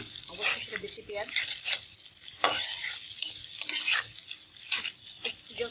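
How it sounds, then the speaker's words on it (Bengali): Onions frying in hot oil in a home kitchen, a loud crackling sizzle with bursts and stirring noises, close by, with a voice talking over it. "তেলটা গরম হয়ে আসছে, আমি পেঁয়াজ দিয়ে নিবো"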